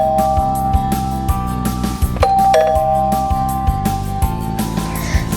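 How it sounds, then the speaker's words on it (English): A doorbell rings through a fairly loud, busy mix, with tonal chime-like notes sustained over a steady background and a brighter ring near the middle. "the ringing of the doorbell disturbs her sleep"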